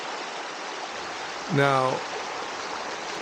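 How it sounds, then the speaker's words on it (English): A small, frigid river flowing along the Kanarra Falls trail makes a steady, close rushing wash that continues throughout, with a brief word spoken over it. "you're going to walk in this little river here all the time"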